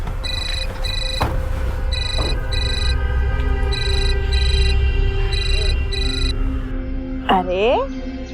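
A telephone rings in repeated electronic bursts during a tense TV crime drama scene, steady over a low hum, with a brief swooping tone near the end.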